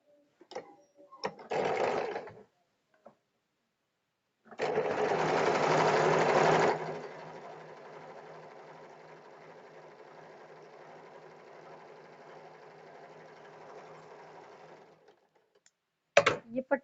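A sewing machine stitches a lining strip for a belt blouse, with a short burst early, then a loud run that settles into steady, softer whirring for several seconds before stopping.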